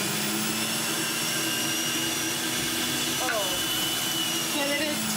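A kitchen chopping appliance runs on a whole apple, a loud, steady high-pitched motor whine that continues without pause, with a brief voice faintly underneath.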